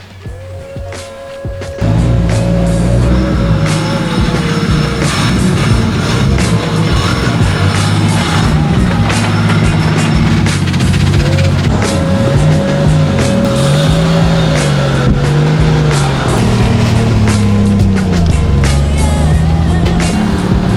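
A Nissan Cefiro A31 with an RB25DET engine pulls away on a test drive after a routine maintenance and engine chamber cleaning, its engine rising and falling through gears in a loud continuous drone heard from inside the car.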